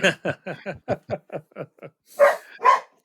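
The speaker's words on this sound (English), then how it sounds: "So great, my dog's barking." A dog barks in quick succession, about ten short yaps fading slightly, then two louder, fuller barks close by, with no talking over them.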